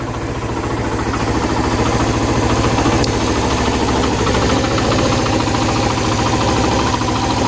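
A Suzuki engine fitted with a carburetor runs steadily, a loud, close, continuous knocking idle with dense rhythmic pulsing and vibration that holds constant throughout.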